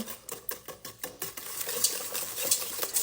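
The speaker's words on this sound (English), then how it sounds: "We're gonna add in one here and whisk that together." Whisk beating one egg into brownie batter in a bowl, a quick run of rhythmic wet taps and scrapes that then turns into a denser, steadier swish.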